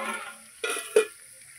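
Water splashed into a pan of frying cumin, ginger and garlic paste, two quick hissing sizzles close by, the second sharper, after a faint bubbling fry.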